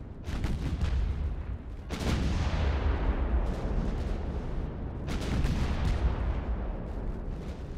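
Torpedo strikes exploding against warships in a dreadnought-era naval battle game: loud, close blasts at the start and again midway, each followed by a long rolling rumble. Gunfire continues throughout underneath.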